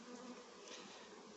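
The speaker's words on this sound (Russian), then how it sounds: "А вот пчелки, золотарники." Honeybees forage on goldenrod flowers in a summer field in the Leningrad region, giving a soft, continuous buzzing hum close by with no voices.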